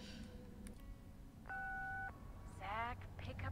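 In the video game Answer Knot, a phone's electronic tone sounds: a steady two-pitch beep lasting about half a second, followed by a warbling ring, under a faint background hum.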